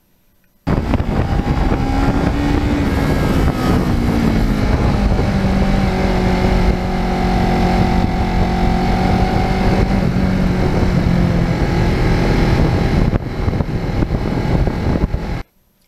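A Kawasaki Ninja 650R is ridden along a country road loop, its engine hum steady and close under heavy wind rush, the pitch drifting gently with throttle changes before cutting off at the end.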